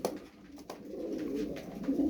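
Bursa Oynarı pigeons coo softly nearby, a low throaty burbling that swells toward the end, with light rustling in the background.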